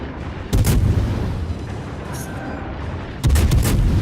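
Naval guns boom in the World of Warships video game, two heavy reports about three seconds apart over a steady rumbling engine-and-sea backdrop, loud and close.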